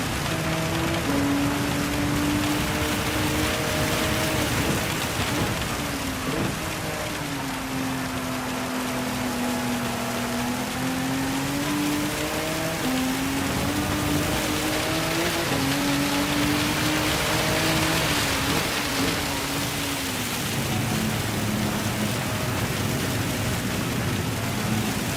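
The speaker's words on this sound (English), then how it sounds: "It's raining that hard I can't even hear the" Heavy rain pounds down steadily in a Gran Turismo 7 race at the Nürburgring, a loud, continuous hiss that lasts throughout, with a low engine drone rising and falling beneath it and no talk.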